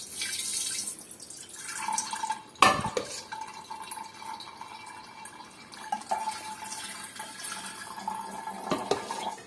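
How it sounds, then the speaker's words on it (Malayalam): Homemade beetroot wine is strained and poured into another vessel, with uneven trickling and dripping of liquid, a sharp knock of the container near the start, and a few softer clinks as the pouring continues. "നമുക്കിതിലേക്ക് അരിച്ചൊഴിക്കാം."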